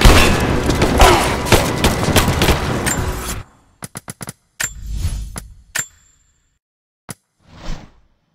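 Video game gunfire and impacts in Rise of the Tomb Raider at a Soviet installation: a dense burst of shots and whooshes, then a string of sharp isolated cracks and booms separated by silence.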